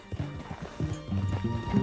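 Horse from Red Dead Redemption 2: a run of close, uneven hoof clops with knocks and a short whinny near the end, heard alone without talk.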